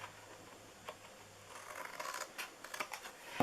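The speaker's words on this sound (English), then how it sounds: "we are going to cut this 1/2 inch piece off here" Scissors snip through paper while making a holiday treat box, giving a few short, faint cuts close by in a quiet room with no talking.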